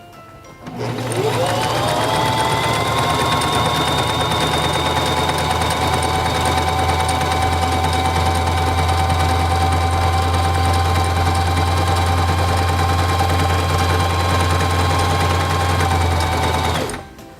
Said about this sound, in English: To sew the honeycomb stitch, place the fabric under the presser foot, lower the presser foot, and begin sewing.